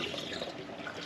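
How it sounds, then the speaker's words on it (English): Water pours steadily out of a pot of boiled eggs into a sink, a continuous splashing, gurgling drain heard close up and alone for about a second. "Drain that water out."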